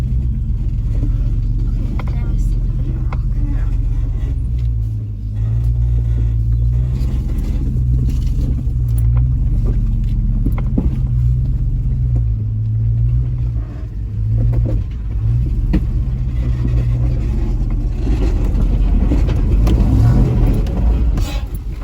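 A Chevrolet Suburban off-roading in Arkansas spins its back tire to engage the rear locker, a loud, steady engine rumble with low droning tones and occasional clunks and knocks close by.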